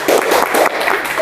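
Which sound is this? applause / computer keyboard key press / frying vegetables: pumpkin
applause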